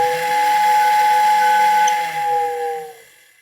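A steady steam-style whistle from a Marx toy train station sounds continuously for about three seconds with a faint hiss before fading out, clear and alone.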